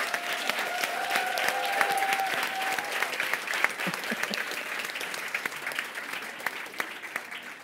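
An audience at an academic anniversary ceremony applauds returning alumni, a full steady round of clapping throughout with scattered louder claps, while a faint tone and murmured voices sit underneath.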